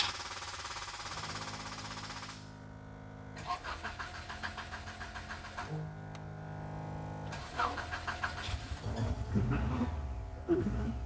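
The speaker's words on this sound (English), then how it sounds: "I can tell you that's the easiest race car start I've heard" A Saker race car engine fires up and blips its throttle, with sharp barking revs and an uneven, clattering idle between the bursts, close and loud, while faint voices sit in the background.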